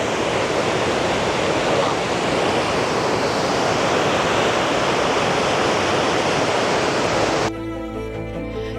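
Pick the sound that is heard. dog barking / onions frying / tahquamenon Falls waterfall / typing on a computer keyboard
tahquamenon Falls waterfall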